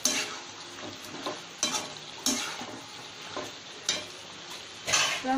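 Chicken sizzles in a pan with a steady fry as it cooks in its own released water for pepper chicken, while a utensil stirs and scrapes against the pan in repeated bursts every second or so.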